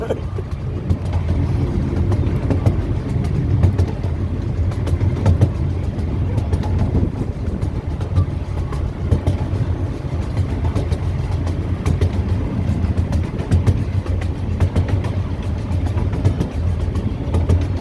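A safari train ride at the Milwaukee Zoo rumbles steadily with continuous rolling and rattling noise up close, while voices chat over it throughout.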